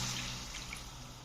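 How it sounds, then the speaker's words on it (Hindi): Half a cup of water splashes and hisses steadily into browned masala chicken cooking in a pan, a brief close, continuous pour with no talking. "अब इसके अंदर मैं आधा कप पानी डालने लगा हूँ"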